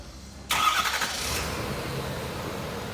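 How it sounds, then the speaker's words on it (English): A 2011–2016 Ford Super Duty truck engine cranks and fires after a half-second of quiet, then settles into a steady, close idle rumble. "we're gonna start the truck"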